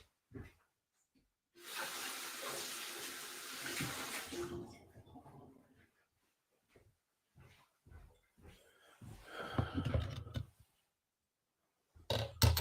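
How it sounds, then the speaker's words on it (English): Tap water runs and splashes for a few seconds as something is rinsed in a kitchen, then cuts off, followed by faint scattered clinks and handling noises in a quiet room. "Oh, I need to rinse this."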